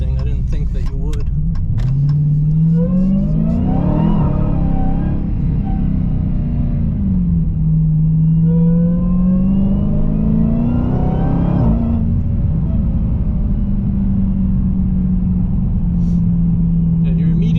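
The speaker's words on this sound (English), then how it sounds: "Supercharger is very loud, and you can hear it even with the windows completely closed" Supercharged Dodge Challenger Hellcat Redeye pulling hard through the gears from inside the cabin, the engine and supercharger whine rising in long sweeps with brief dips at each shift, loud and close, with someone talking over it.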